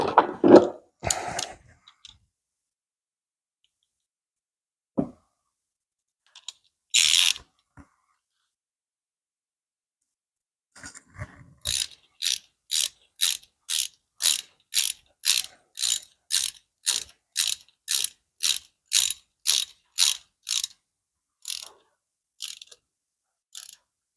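A socket wrench ratchets on a 7/16 bolt on a Morris Mini Deluxe engine. A few scattered clicks and handling noises come first, then a long steady run of evenly spaced ratchet strokes, close and clear, with no talk.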